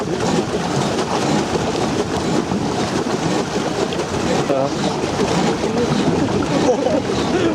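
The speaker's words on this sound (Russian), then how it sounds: "У нас катер." A powerful motorboat engine drones steadily against the current, with rushing water mixed into the constant, fairly loud noise.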